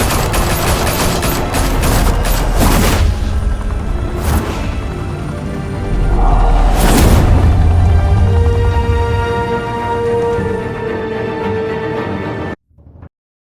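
Heavy sustained gunfire rings out in a Batman video game set in Gotham, a dense, loud barrage of overlapping shots and booms that rolls on for over twelve seconds before cutting off abruptly.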